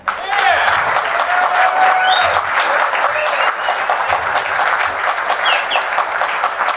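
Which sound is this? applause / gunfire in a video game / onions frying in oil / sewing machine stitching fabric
applause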